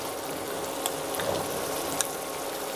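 About half a cup of onion paste sizzles steadily in a hot pan of oil, a continuous crackling hiss with a few small pops, close and fairly loud, with no voices.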